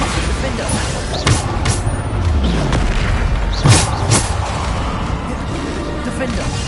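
Bombarda explosion spells in Hogwarts Legacy, two loud booming blasts near 1.3 and 3.7 seconds over a constant rumbling game backdrop, with voices shouting spell names in the background.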